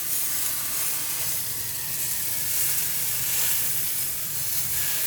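Cauliflower steaks searing in a hot pan give off a steady, close sizzle with hissing steam, continuous and fairly loud, with no talking.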